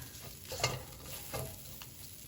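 Grated ginger is stirred into an eggplant mixture cooking in a pan, with a faint sizzle under a few soft scraping stirs of a utensil, quiet and close with no speech.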